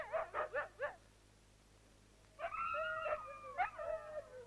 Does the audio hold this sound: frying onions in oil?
no